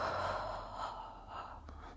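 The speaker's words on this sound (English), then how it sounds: "Big inhale. Big exhale." Deep breaths drawn in and pushed out during a Pilates core workout for runners, a close, airy rush of breath that swells and eases with no talking.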